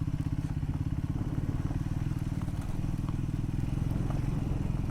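A Triumph Scrambler 400X motorcycle rides off-road in third gear, its engine a steady, close, low pulsing thrum with a rapid even firing rhythm and occasional light clatter, running continuously without pause.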